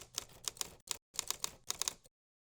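Close, crisp keyboard typing plays in several rapid clusters of keystrokes with brief gaps between them, then cuts off into silence; nobody speaks.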